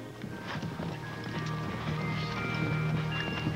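Horse hooves clip-clop steadily on a guided trail ride, a close, busy patter of footfalls over a soft background rumble, with no voices.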